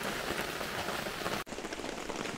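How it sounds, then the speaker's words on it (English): Rain falling steadily at a campground on a cold day, a dense close patter on surfaces, continuous with a brief dropout midway and no voices. "It's rainy."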